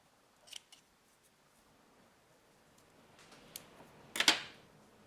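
Scissors make a few crisp snips, close and quiet, cutting loose thread ends from a crochet cotton wrap bracelet. The clearest snip lands near the end, with faint handling sounds between the cuts.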